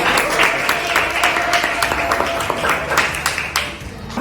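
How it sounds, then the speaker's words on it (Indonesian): Classroom applause for a student group: a burst of many hands clapping steadily for several seconds, lively and fairly close. "tepuk tangan untuk kelompok 6"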